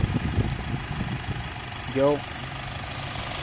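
A 2015 Honda Civic Si coupe engine runs quietly as a low, steady hum under a short spoken word, with a brief rising tone swelling near the middle.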